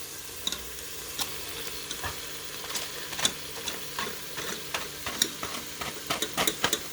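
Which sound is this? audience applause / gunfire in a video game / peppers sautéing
peppers sautéing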